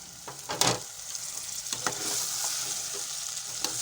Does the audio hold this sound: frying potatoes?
yes